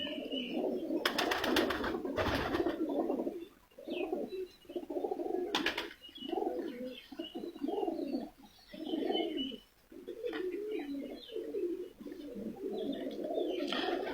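Pigeons at a champion fancier's home loft coo in repeated soft, rolling phrases, several birds close by, with a few sharp clicks and faint chirps in the background.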